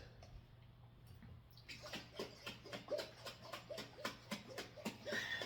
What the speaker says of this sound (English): let's put the lid on and shake this up because we want to mix the salt all up in the water